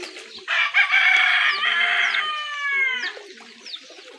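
Desi chickens clucking and crowing on a poultry farm in Punjab, with loud, close calls and a drawn-out crow dominating before trailing off into softer clucks.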